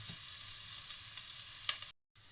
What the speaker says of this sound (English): I'm just going to gently stir them and probably have them in this caramelising for about 5 minutes or so